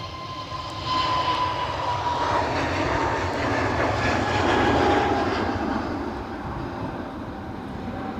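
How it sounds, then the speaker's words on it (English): An airliner rumbles overhead near Edinburgh Airport, its engine roar steady and broad, swelling slightly midway and lingering throughout without speech. "Several planes are about to go overhead."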